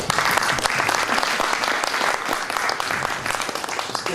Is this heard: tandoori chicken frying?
no